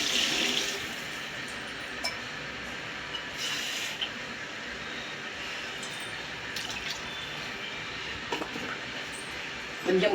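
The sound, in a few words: water poured into pan for semiya kichadi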